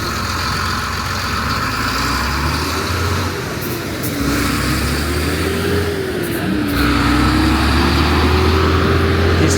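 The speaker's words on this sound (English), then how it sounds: "Heavy truck" A heavy truck on a city street in Ethiopia, a steady loud engine drone rumbling nearby with a shifting low tone, continuous throughout with no talking.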